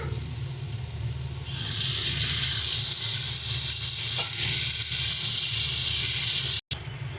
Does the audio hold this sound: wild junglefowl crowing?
no